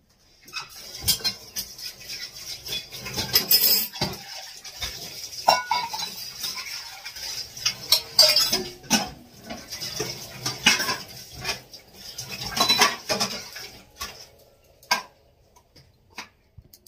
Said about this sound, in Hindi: बर्तन मांज लेती हूँ।